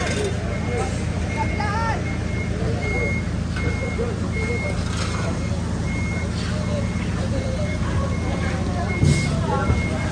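Lorries are loaded at a busy Philippine port with fishing boats offloading nearby, a vehicle's reversing beeps sounding at steady intervals over engine rumble and general bustle, and people talking nearby.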